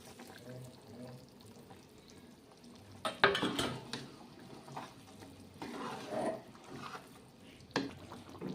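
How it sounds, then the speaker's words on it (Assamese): A spice and jaggery mix for a sweet Indian olive pickle is scraped and stirred in a wok with steady spatula strokes, a soft sizzle and occasional louder metal scrapes against the pan. "এয়া মছলাখিনি এতিয়া কেৰাহীটোত ঢালি দিছোঁ"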